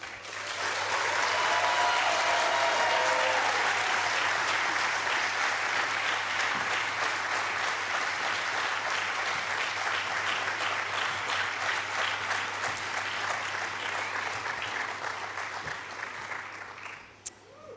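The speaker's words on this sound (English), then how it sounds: "A round of applause, please, for the graduates of" An audience gives graduates of a GEMBA21 graduation ceremony long, loud, sustained applause that fills the hall, holding steady for most of its length before stopping abruptly near the end.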